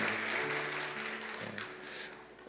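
Church congregation standing to applaud a newlywed couple during a Korean church service, steady broadband clapping throughout with a faint murmur of voices underneath.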